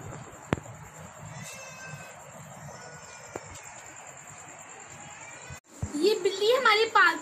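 A stray cat, not a pet, makes a few high, wavering meows close by near the end, following a stretch of quiet household background.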